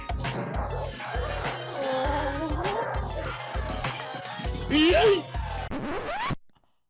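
A cartoon dog barks, yips and whimpers while being thrown, over scratchy, zipper-like scuffling, with a rising squeal near the end before the sound cuts out; voices speak throughout.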